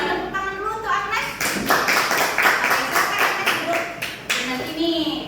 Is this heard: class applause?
yes